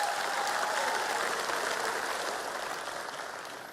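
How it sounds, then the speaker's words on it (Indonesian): Crowd applause at an Indonesian political campaign rally for Ganjar Pranowo and Mahfud MD, a dense, steady clapping wash filling the hall before slowly tapering off, with no voices over it. "Tepuk tangan untuk kita semua"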